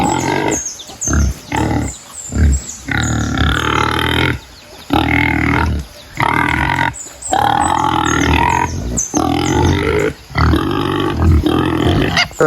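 Hungry pet pig grunting loudly and continuously close by, in rough, throaty bursts with short pauses between them.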